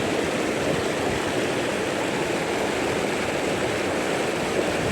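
A fast-flowing river current rushes in a dense, steady wash of broadband water noise, close and continuous, at a spot where wild tilapia are being fished.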